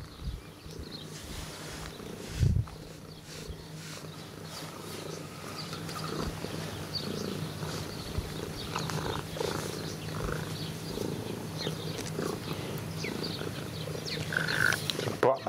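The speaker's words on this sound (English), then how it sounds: "Oh, it's purring, aren't you?" Close, low rumbling purr of a cat, steady and continuous under occasional soft voice and handling noises, growing slightly louder toward the end.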